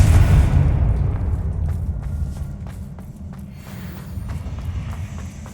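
A Confringo blasting spell goes off in Hogwarts Legacy, opening on a loud, deep explosive boom that fades into a long rumbling tail, with faint footsteps and small impacts scattered through it.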